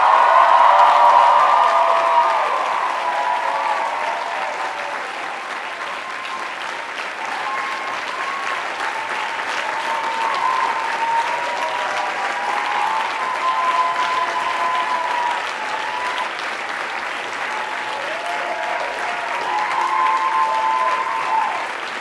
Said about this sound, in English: thank them with a hearty and heartfelt round of applause